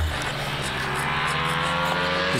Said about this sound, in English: damn motorbikes today, all over the audio